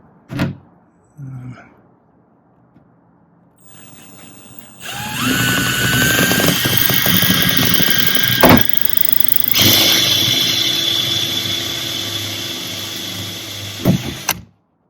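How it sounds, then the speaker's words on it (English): A power drill bores into a Mercedes Sprinter van's metal with a whining, grinding drone, briefly stopping and restarting, after a few knocks and handling sounds. "I'm going to try to drill as far down as I can"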